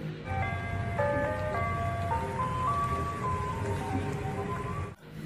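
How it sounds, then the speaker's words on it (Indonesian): A tinkly ice cream truck jingle from a toy ice cream truck plays a simple melody, loud and close, over a low hum, then cuts off abruptly near the end. "Wow, ini ada mobil es krim."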